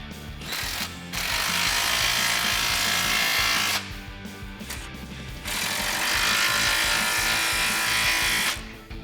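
A ratchet wrench tightening exhaust clamps under a 2015-2021 Mustang EcoBoost fitted with an MBRP XP Series Y-pipe exhaust. Two long, loud bursts of rapid clicking run close by, separated by brief pauses.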